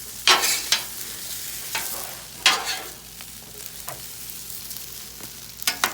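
Chicken fried rice being stir-fried in a pan, with a utensil scraping and knocking to break up clumps: several sharp, irregular clatters over a faint sizzle, close and fairly loud.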